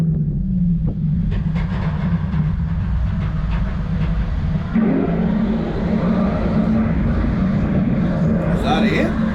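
Roller coaster ride at Ferrari World Abu Dhabi, a Formula 1 themed coaster, heard as a steady loud low rumble and rattle of the running train with clattering wheel noise throughout, with voices talking over it.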